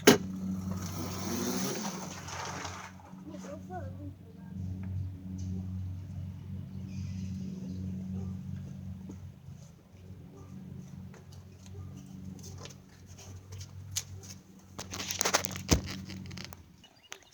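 Steady low engine drone of a Vespa scooter and motorcycle riding along a road, continuous with a few light clicks and rustles, plus a brief burst of broadband noise near the end.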